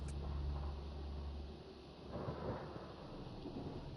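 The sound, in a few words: thunderstorm on an alien planet in Mass Effect: Andromeda video game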